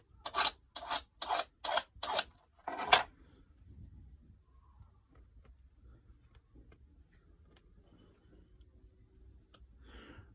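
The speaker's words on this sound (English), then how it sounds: "Just check for any burrs on the key. Remove them if so with a small warding file." A small warding file rasps burrs off a freshly cut key: five or six quick, sharp strokes in a rhythmic burst, close and loud, followed by quiet with faint ticks and handling noises.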